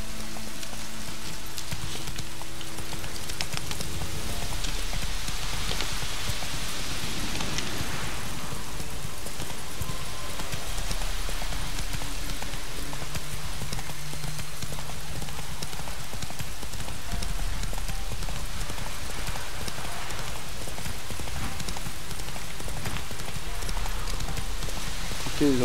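In The Witcher 3, a horse gallops along a road in Velen with a steady, rhythmic clip-clop of hooves that runs throughout, over a soft rain-like ambience. A voice speaks at times.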